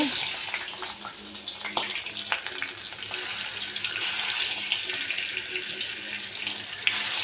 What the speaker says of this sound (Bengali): তেল গরম হয়ে গেছে, এখন মাছ দিয়ে দিব। মাছ দিয়ে ভেজে নিব।